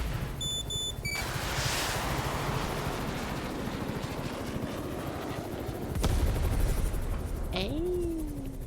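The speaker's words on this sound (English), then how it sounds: "Time to shoot down the helicopter." A helicopter is shot down in the video game Chernobylite, with dense rapid gunfire over a constant rotor drone, electronic beeps at the start, a sharp impact burst near the end and a falling tone, all fairly loud.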